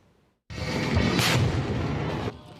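An explosion at a crowded city event in Chiayi, recorded as news footage: a sudden, loud, broad blast with a roaring, crackling burst that lasts about two seconds before cutting off.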